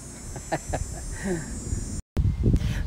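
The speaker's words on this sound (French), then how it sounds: "Et on entend la cigale." Outdoors, a cicada sings as a continuous high, steady buzz running throughout, heard at a moderate distance over soft rustling and light handling noises.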